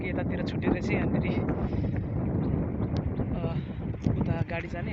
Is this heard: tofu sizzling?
no